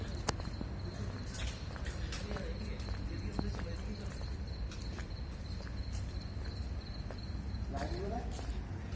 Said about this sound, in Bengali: যেখানে সেই ঝিঝি পোকার ডাকের আওয়াজ শুনতে পাওয়া যাচ্ছে।